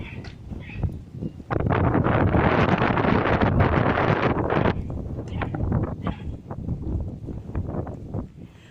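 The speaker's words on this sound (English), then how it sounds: "It's very windy." Strong wind buffets the microphone on Crosby Beach near Liverpool, England, loud gusty roaring that surges for a few seconds then eases into lighter rumbling, with a faint voice in the background.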